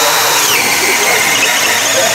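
A power drill bores slowly into thick timber, a steady high whine running loud and close for the whole stretch, with a faint squeal riding on top.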